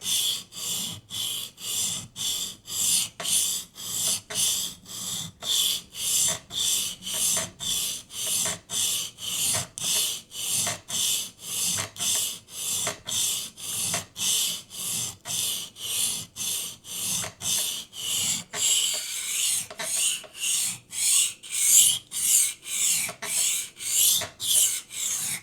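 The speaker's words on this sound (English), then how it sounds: "I prefer to finish this part of the sharpening process with this back and forth motion" A knife blade is sharpened by hand on a diamond stone: a long run of rhythmic back-and-forth rasping strokes, close and evenly paced, each stroke a short gritty scrape repeating steadily with no talk.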